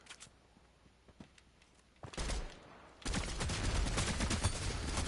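Gunshots in the Fortnite video game: after a quiet stretch, a brief loud burst of fire, then a sustained, dense barrage of rapid shots that continues to the end.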